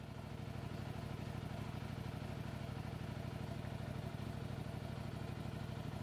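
A CF Moto Explore 0.61 motorcycle engine runs at a steady idle, with an even, fast, pulsing chug and a light mechanical clatter. It is moderately close and no one talks.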